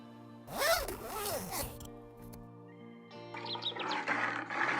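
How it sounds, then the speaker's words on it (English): A zipper is pulled in two quick rasping strokes, loud and close, then a fainter zipping burst follows after a short pause, with some speech-like sound also present. "Z is for zip."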